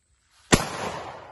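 A Spartan SPR 100 12 gauge shotgun fires a single sharp, loud blast that rings out into a decaying outdoor echo, alone after a brief quiet moment.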